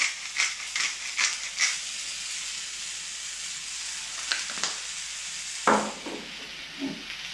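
Leek and other vegetables sizzling in a pot, a steady hiss of frying with scattered crackles and pops, plus a few light clinks of a utensil against the pan.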